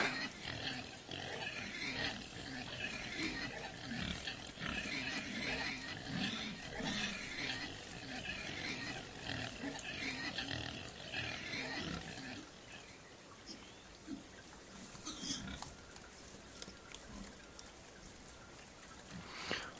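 Pigs grunt and oink in a video game, a busy layered chorus of animal calls with rumbling, rain-like background noise that thins out in the later part. Faint talk sits underneath.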